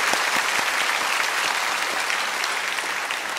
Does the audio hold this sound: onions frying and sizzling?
no